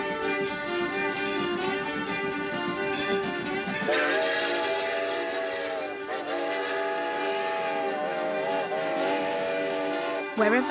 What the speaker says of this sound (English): Wherever the funeral train passes, onlookers pause to pay their respects.